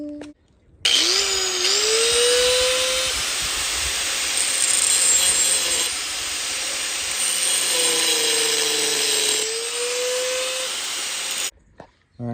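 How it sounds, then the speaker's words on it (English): A power tool bites into the tube of a BMW E46 seat bracket, a loud, harsh whine rising and dipping in pitch over roughly ten seconds with one short pause, close up and with no talking. "we're gonna cut a big hole in this back side"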